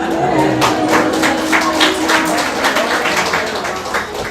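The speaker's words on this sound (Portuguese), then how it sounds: "Uma salva de palmas para vocês." A church congregation at Igreja de Nova Vida do Catete applauds, a steady, dense patter of many hands clapping close and loud for several seconds.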